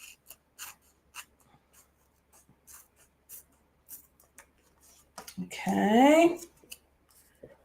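Scissors snip through a scrap of washi tape in one close, crisp cut, preceded by quiet handling clicks and a brief spoken word.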